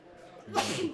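A single sharp sneeze bursts out close by at a board game table during a session of Tokaido, rising from a quiet room and fading quickly.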